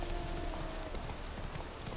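Horse hooves clip-clop steadily in The Witcher 3 video game, an even trotting rhythm set within dense, noisy game ambience with no talk.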